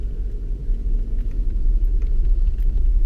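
A Toyota RAV4 rolls along an off-road trail, giving a steady, loud low rumble of engine and tires with faint crunching from the ground and no voices.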